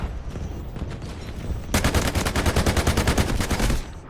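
Gunfire in the Delta Force video game: a few scattered shots, then a loud, rapid automatic burst of evenly spaced rounds lasting about two seconds before cutting off.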